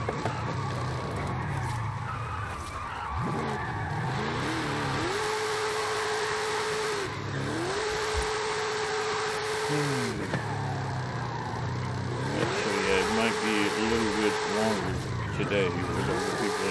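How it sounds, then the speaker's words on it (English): Game car engine in Forza Horizon 5 revving and droning through sustained drift runs with rising and falling pitch plateaus, tire noise and game sounds mixed in, loud and continuous. "It's Drift Run! Keep drifting and don't stop!"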